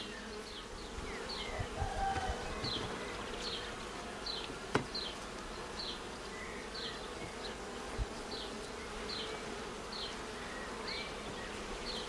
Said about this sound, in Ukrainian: Ну що тут, ось така кількість бджіл.